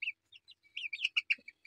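Young chicks about three weeks old peep in a quick series of high, close chirps, with a few short low clucks from a hen mixed in near the end, and nobody speaks.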